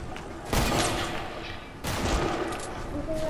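Hunting rifle gunfire in an online shooter video game, two sharp loud shots about a second apart, each with a ringing tail, over steady game background noise.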